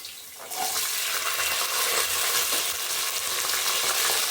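Dry red chillies, garlic cloves and chana dal sautéing in oil in a pan, a steady close crackling sizzle that starts after a brief quiet moment and holds loud and even throughout.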